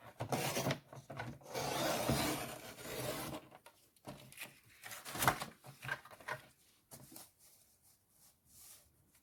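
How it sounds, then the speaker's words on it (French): A paper trimmer slices through paper in a few rasping, scraping strokes, loud at first and then in shorter bursts with quieter gaps, close by with no talk. "découper ou directement découper avec votre massicot. Moi, c'est ce que je vais faire."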